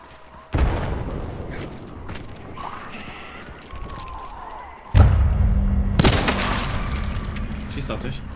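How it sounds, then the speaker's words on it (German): Gunfire in the video game Hunt: Showdown, two heavy booming shots several seconds apart with rumbling tails, while players talk over it. "Schießt auf dich."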